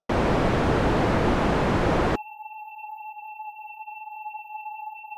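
Broadband noise bursts loudly for about two seconds, then cuts off abruptly into a quiet, steady tonal pad of sustained pure tones shaped by a spectral filter, with no voices present.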